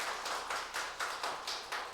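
A church congregation at a Sunday service claps in unison, a steady rhythm of roughly four claps per second, moderately close and fairly soft, with no voices over it.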